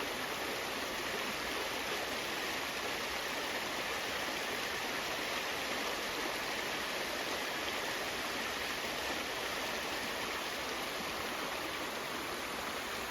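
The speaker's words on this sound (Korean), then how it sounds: "청정 자연 계곡입니다." A steady, dense rush of flowing water fills the clip, a mountain valley stream at Chiaksan, Wonju, running continuously and evenly with no voices or other sounds.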